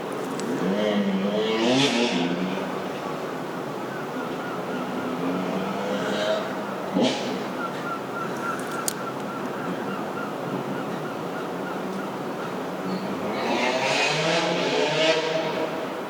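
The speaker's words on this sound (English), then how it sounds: "I'm trying to record a video and you've got like motorbikes doing whatever that was" Motorbikes roar past at a distance, rising and fading in waves, with a sharp rev partway through over a steady background hum.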